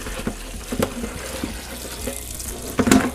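Tap water runs over salted cucumbers in a sink, a steady rinsing splash with a few louder clatters and a brief surge near the end, no voices.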